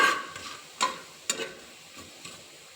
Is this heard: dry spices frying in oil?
yes